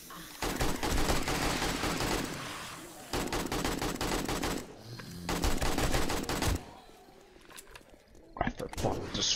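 Rapid automatic gunfire in a multiplayer video game, coming in several loud, dense bursts separated by short pauses, with some talk underneath.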